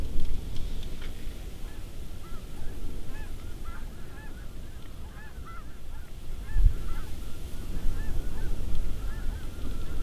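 A large mixed flock of white-fronted, snow and blue geese honks steadily and fairly close by, many overlapping calls repeating throughout against a constant wash of falling rain.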